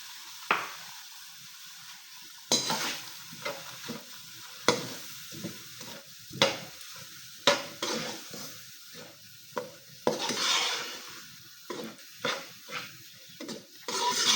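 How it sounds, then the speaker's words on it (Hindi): Semolina frying in oil in a pan while a spoon stirs it, giving a steady sizzle broken by repeated scraping strokes and clinks in an irregular rhythm, close and moderately loud. "1 से 2 मिनट इसको हम फ्राई करेंगे"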